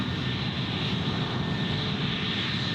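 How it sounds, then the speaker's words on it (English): Jetstar Airbus A321neo jet engines roaring steadily at close range as the airliner sits at the Gold Coast airport, a continuous broadband rumble with a high whine, no pauses. "All right, so here's our A321neo. I think it's off to Adelaide with Jetstar."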